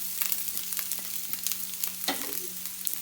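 Spices being gently sautéed in a pan for a breadfruit masala curry, with a soft, steady sizzle and occasional light stirring scrapes and ticks, close up and without speech.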